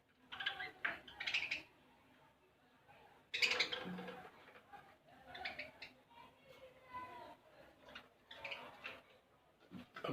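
Budgerigars chirp and squawk in busy overlapping bursts, squabbling over soaked seeds with harsh scolding calls among the twittering; a voice murmurs faintly underneath.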